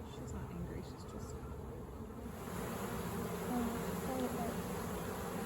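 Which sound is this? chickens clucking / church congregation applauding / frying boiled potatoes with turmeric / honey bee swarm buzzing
honey bee swarm buzzing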